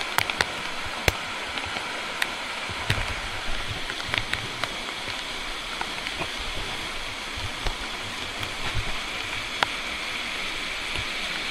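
A swollen, muddy river in a Konkan village rushes steadily, a continuous loud broadband roar of flowing water with small splashes and no talk.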